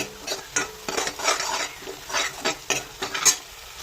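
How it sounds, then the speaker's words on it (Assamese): Spices and red chilli sizzle in hot oil while a spoon scrapes and clinks against the pan in quick, irregular strokes. "মছলাখিনি ভালকৈ ভাজি ল'ব লাগিব"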